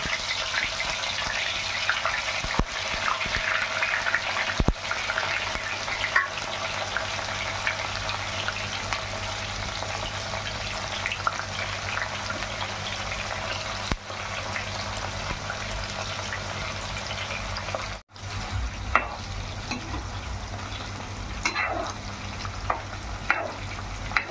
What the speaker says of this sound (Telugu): నూనె అయిందండి కాకరకాయలు వేసి